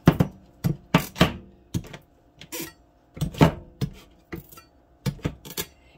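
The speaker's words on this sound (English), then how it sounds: "Poke a few holes in the skin." Repeated sharp pokes of a knife or fork into the hard skin of a halved spaghetti squash set face down, a dozen or so crisp clicking taps in an irregular rhythm, close and fairly loud.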